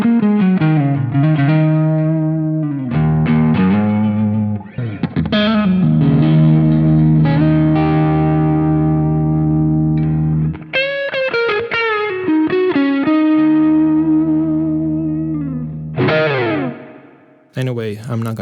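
Electric guitar through a high-gain overdrive pedal on a Line 6 POD GO, playing chords and short riffs, thick and saturated with sustained notes, loud and continuous with brief pauses between phrases.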